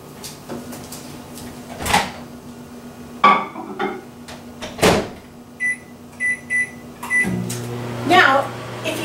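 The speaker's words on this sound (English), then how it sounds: "I'm going to pop this into the microwave for 1 minute" A microwave oven heating creamy potato soup for one minute gives a steady low hum with some clattering, then three short high beeps, followed by more kitchen noise.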